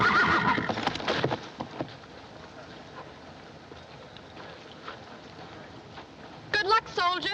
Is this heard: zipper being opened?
no